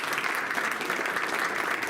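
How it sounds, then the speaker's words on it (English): An audience claps steadily for a guest speaker at a Yiddish class, a dense, even wash of applause that holds at full strength for the whole two seconds, with no voices over it. "So can we give a big round of applause to Abe?"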